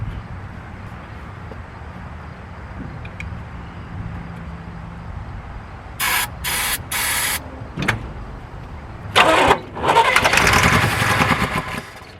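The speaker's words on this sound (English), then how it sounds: "The car starts." A 1973 Camaro being started after sitting: faint low rumble at first, then a series of sharp cranking bursts, followed by the engine catching with a loud ragged roar near the end.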